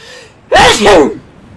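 A person sneezes from allergies, a single loud, sharp burst with a breathy intake, close to the microphone against a quiet background.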